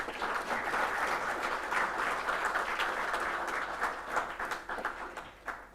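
Sustained applause from an audience at a police foundation day event, a steady dense wash of clapping filling the whole stretch, fairly close and alone with no talk over it.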